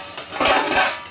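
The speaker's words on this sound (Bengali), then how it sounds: "দেখেন এবার আমি থালাটা সরিয়ে দিচ্ছি।" A metal plate scrapes and clinks as it is slid off a cooking pot, a brief bright metallic rattle close by with no talking.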